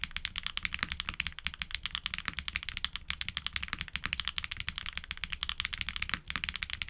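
Rapid typing on a mechanical keyboard fitted with Invokeys Reserve switches, a steady stream of close, crisp keystroke clacks with a few louder bottom-out hits and brief pauses.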